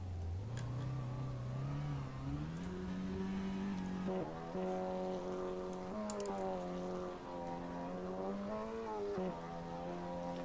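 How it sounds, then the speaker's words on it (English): Audi TT Cup race car in Assetto Corsa launching up the Goodwood hill climb, engine revving steadily and climbing through gears with short shift dips, loud and close throughout, no talk. "driving his championship-winning Audi TT Cup from the most recent season of AF3. Ready to take on the Goodwood hill climb."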